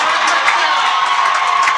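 A home crowd at a 2017 high school football game between St. Joe and Ocean City cheers and shouts after a touchdown, a loud, steady roar of voices with whoops throughout.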